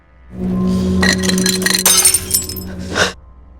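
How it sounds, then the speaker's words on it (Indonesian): A drinking glass is dropped and smashes, a loud, close crash of shattering glass followed by tinkling shards that scatter and settle over a few seconds. "Tanpa sengaja ia menjatuhkan sebuah gelas."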